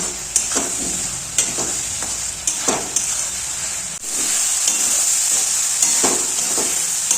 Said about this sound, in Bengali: এবার সুন্দরভাবে মশলাটা কষে নেব